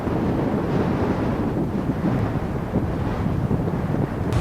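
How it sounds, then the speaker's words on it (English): Strong crosswind roaring over the microphone on a bicycle trip through Iran. The gusting rumble is steady and loud the whole time, with no voices. "Wind's picked up,"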